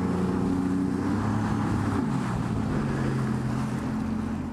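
Supercharged Sea-Doo RXT260 personal watercraft running on open water, its engine droning steadily with a shifting pitch under constant rushing wind and spray, loud and close throughout.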